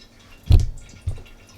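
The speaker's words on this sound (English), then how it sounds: "So right now you can hear it trickling." Water trickles and drips through a Waterdrop King Tank gravity-fed water filter, heard as two distinct close splashy drips about half a second apart with no talk.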